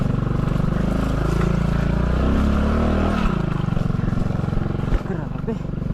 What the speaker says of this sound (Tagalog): Hindi na uubra yung power ng motor dahil sa dulas ng daan.